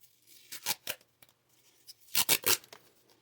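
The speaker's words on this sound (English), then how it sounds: "I'm going to take a piece of tape here" Tape peels and tears off a roll while patching a used, worn Champion generator, two close bursts of quick ripping sounds separated by a short pause.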